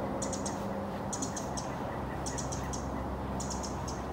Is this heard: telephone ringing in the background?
no